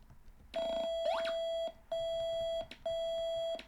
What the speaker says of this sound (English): No, it's just beeping at me.